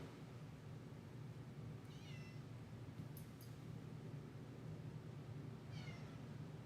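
A cat meows twice, short and fairly faint, the calls spaced several seconds apart over a steady low room hum.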